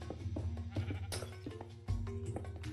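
Sheep in Minecraft bleat repeatedly, several short overlapping calls spread evenly across the clip, with a steady low background hum.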